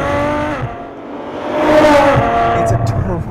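A Ferrari F12 Berlinetta engine revs up close, with a deep intake growl swelling into a snarling exhaust note, then easing off.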